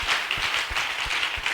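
A congregation claps and applauds in praise during a French-language prophetic church service, a dense, steady wash of many hands with a pulsing low beat running underneath.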